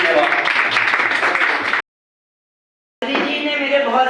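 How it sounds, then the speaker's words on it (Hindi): Audience applause at a felicitation ceremony: a dense burst of clapping, a sudden gap of silence, then a second round of clapping with a voice over it. "मैं चाहता हूँ कि ताली हो।"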